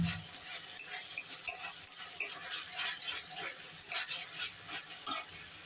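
Vegetables for veg fried rice tossed with sauces including green chilli sauce, a quiet continuous sizzle with frequent close spatula scrapes and light clinks against the pan.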